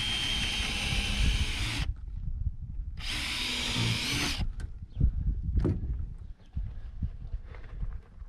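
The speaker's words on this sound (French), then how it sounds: "Ici, je vais venir percer. Je vais percer un peu en biais," A power drill bores at an angle into roof timber, two loud whining bursts separated by a pause, followed by softer knocks and handling clatter.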